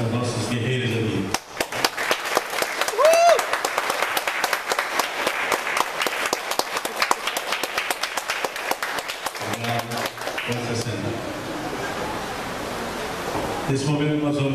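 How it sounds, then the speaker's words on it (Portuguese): A church congregation at a Mother's Day service applauds the mothers, a long sustained burst of dense clapping that swells, then tapers, with brief stretches of a voice before and after. "Agora vamos dar uma salva de palmas para essas nossas guerreiras ali."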